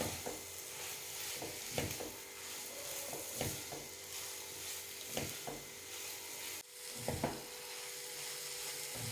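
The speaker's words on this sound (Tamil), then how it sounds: "சேர்த்துட்டு லோ ஃப்ளேமில் வச்சுட்டு இதை இன்னுமே ஒரு 2 நிமிஷம் நம்ம நல்லா சேர்த்து கிளறிக்கலாம்." Quiet scraping and soft sizzling as a grated coconut snack mixture with peanut candy, flattened rice and banana is stirred in a pan on low flame, with intermittent spoon strokes over a steady low background hiss.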